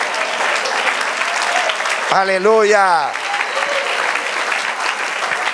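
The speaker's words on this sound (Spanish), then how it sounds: "Denle un aplauso al Señor" A church congregation claps steadily throughout, with a voice briefly and loudly sustaining a sung or shouted exclamation over the applause midway.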